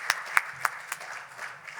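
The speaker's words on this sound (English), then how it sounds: "please give a big round of applause to Bruce Ford of Lodging Econometrics" A small burst of audience applause at a lodging investment conference welcomes a speaker, fairly faint, with three or four distinct claps up front fading into a light scattered patter.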